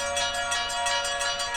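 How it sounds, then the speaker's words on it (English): Santa's sleigh-bell sample pitched down an octave, ringing in a steady run of shimmering jingles at an even pulse, sustained and alone. "So these are the Santa's bells now down an octave."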